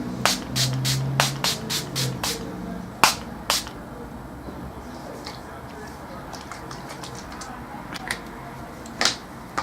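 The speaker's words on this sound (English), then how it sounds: "spraying some of the Revolution Pro Fix makeup setting spray on to try and get rid of that powderiness" Revolution Pro Fix makeup setting spray is pumped onto the face in a quick rapid series of short hissing spritzes, then a few more isolated bursts, all close and fairly loud.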